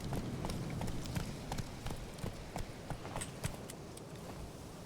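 Steady clip-clop of a horse's hooves at an unhurried walking pace in the video game The Witcher 3, evenly spaced and fairly close, over a constant low background hum.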